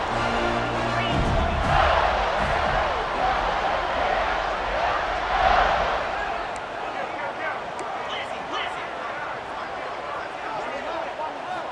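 Stadium crowd roar in EA Sports College Football during a punt return for a Florida touchdown, a loud sustained swell of cheering with surges near the start and middle before easing to a steady hubbub.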